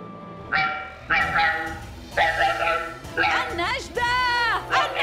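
Animated barks and yelps from a cartoon fire dog in Fireman Sam, mixed with excited, overlapping voices.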